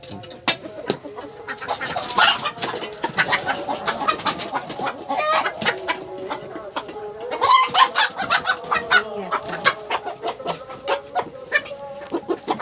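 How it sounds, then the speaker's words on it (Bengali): Domestic desi hens clucking close by in a yard, a busy run of repeated clucks and short squawks across the whole stretch, some louder bursts midway, with quieter birds behind. "দেশি মুরগির ওজন বেশি হয় না। এই যে খুব সুন্দর দেখতে মুরগি।"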